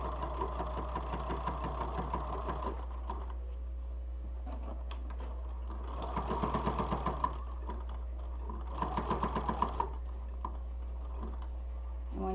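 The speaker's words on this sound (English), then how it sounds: "I just restitch over it a little bit and then back up again so that it locks it really good in place" Sewing machine stitching a fabric bowl cosy, a fast even whir with rattling bursts in short runs, set over a steady low hum.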